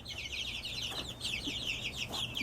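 Young chickens cluck and chirp steadily at close range in an enclosed coop, with a continuous low hum underneath.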